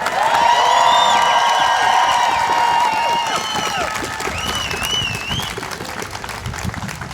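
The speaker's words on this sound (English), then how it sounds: "Can we give one more big round of applause for Sheikh Rami David?" A crowd at a Gaza solidarity encampment at the University of Wisconsin-Milwaukee claps loudly, with shrill whistles and whoops riding over the applause, which fades slightly toward the end.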